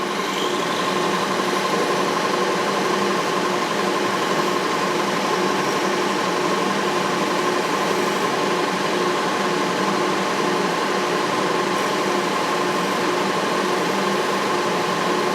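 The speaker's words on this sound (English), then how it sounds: "Now we're just going to open this up." Drill fitted with a number 29 bit enlarging a hole while making an exhaust spring tool, a loud continuous steady motor whine with a constant hum and vibration and no talk.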